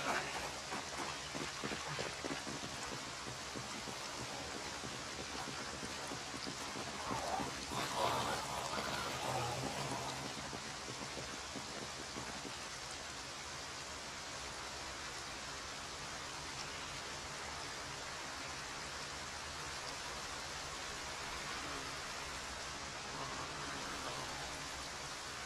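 Steady rain falls in the Project Zomboid game world, a dense continuous hiss with no breaks, slightly heavier near the start and holding even through to the end.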